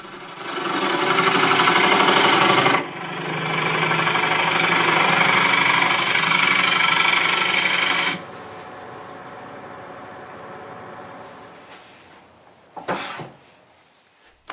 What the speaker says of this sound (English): Now we can true the tenon.